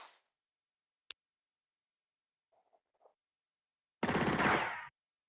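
A rapid burst of gunfire in the turn-based strategy game Spellcross, loud but short, arriving after near silence broken only by a single sharp tick and a few faint clicks.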